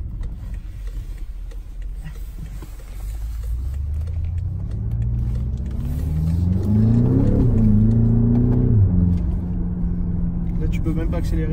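A BMW X6 M engine accelerating on the road, its low rumble climbing steadily in pitch as it revs up, then dropping sharply at a gear change before settling into a steady hum.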